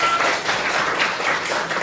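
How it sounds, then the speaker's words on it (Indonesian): A class of sixth-grade children clapping together in a classroom, a brief, even burst of hand claps filling the room without speech. "tepuk tangan anak-anak"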